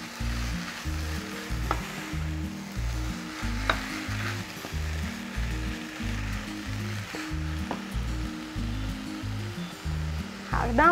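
Garlic stir-frying in a pan for squid stuffed with rice, a continuous loud sizzle with rhythmic scraping of a spatula against the metal, close up with no talking.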